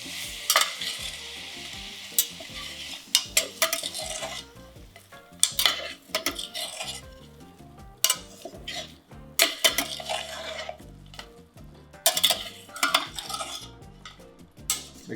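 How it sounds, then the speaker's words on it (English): Brussels sprouts with pancetta and maple syrup being tossed in a pan over low heat: a soft continuous sizzle under repeated scraping and clinking of a utensil against the pan, close up. "We're just gonna toss these."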